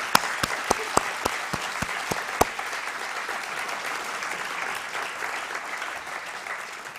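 At a university State of the University address, a few sharp, separate handclaps start off and quickly swell into a full, sustained round of audience applause honouring retiring staff. The applause then settles into a softer, continuous patter.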